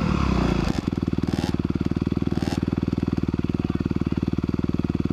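2021 Honda CRF 250R dirt bike revs briefly and then settles into a loud, close, rapidly pulsing engine thump that runs steadily throughout.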